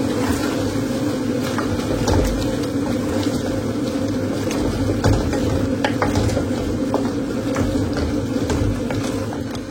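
Chicken being stirred with biryani masala in a pan, a steady sizzling hiss broken by scattered scrapes and knocks of the spoon against the pan.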